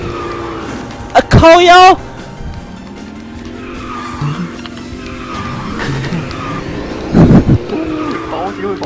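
A race car in a racing video game revs and accelerates, its tires squealing in short skids through a turn, while a player talks excitedly over the engine noise.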